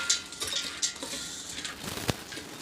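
A spoon stirs curd and green chutney into bhel in a bowl, giving soft wet scraping and light metallic clinks, close and fairly quiet, with no talking.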